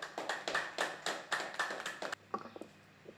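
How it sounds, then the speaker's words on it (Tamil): A small audience at a talk gives thin, scattered applause: about a dozen distinct, fairly close claps in a quick uneven rhythm, then a few faint stragglers before it dies away. "கைத்தட்டல் வந்து கொஞ்சம் கம்மியாக இருக்குது"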